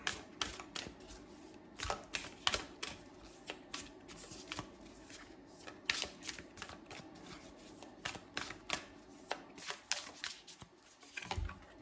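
Tarot or oracle cards are shuffled by hand during a reading, giving a close, crisp run of flapping riffles and soft slides in irregular bursts, quiet and with no talking.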